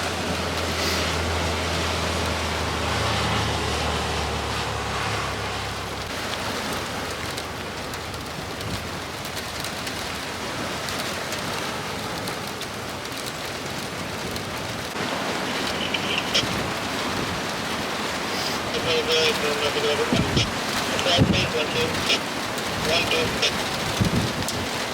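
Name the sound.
rain falling at Port Canaveral during severe weather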